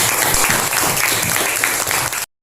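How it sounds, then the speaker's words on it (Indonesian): Children in a classroom clap together in a dense, lively round of applause that keeps going for about two seconds and then cuts off abruptly. "kita beri aplaus untuk semua teman kita yang sudah menjawab"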